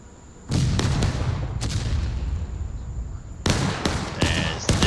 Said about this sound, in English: these shells are landing right about here, or exploding right about here.